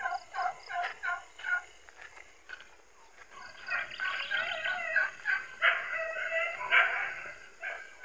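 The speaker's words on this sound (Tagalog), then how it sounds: "maingay yung pabo ngayon dahil pakulong na sila." Penned turkeys on a farm gobble in repeated noisy bursts, some calls overlapping, with a dog's occasional yips mixed in. No one speaks.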